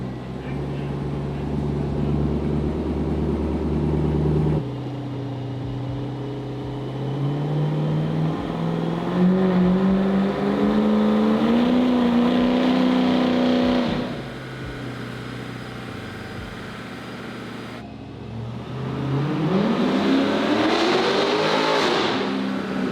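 LS3 6.2L V8 swapped into a Mercedes-Benz revving on a dyno, a loud throaty engine climbing through rising pulls, dropping back to a rough idle, then revving up again in a strong sweep.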